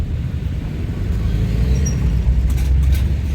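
Road traffic on Batasan San Mateo Road near a traffic light, with a steady low rumble of cars and buses and a brief hiss like an air brake, close and continuous.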